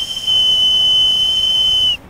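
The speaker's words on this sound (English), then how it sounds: "Wiener whistles." Single shrill, steady wiener whistle from the Oscar Mayer Wienermobile, a loud close pure tone held nearly two seconds, then cut off abruptly.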